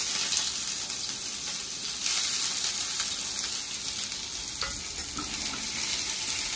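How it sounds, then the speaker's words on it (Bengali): Sliced onions sizzle steadily in hot oil in a home kitchen while a snake gourd mash is being made, a continuous bright hiss with faint crackles and no talking. "এই তেলের মধ্যে দিয়ে দেবো এবার একদম ছোট ছোট কুচিয়ে রেখেছি পেঁয়াজটাকে"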